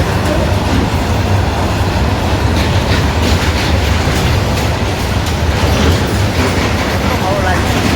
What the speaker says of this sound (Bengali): সামনে একটা মালগাড়ি ঢুকে গেল, দেখুন গাইস কত স্পিডে যাচ্ছে